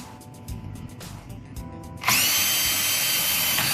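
A power drill whirs in short bursts, then bores a hole into material for a speaker kit with a loud, continuous high-pitched grinding whine.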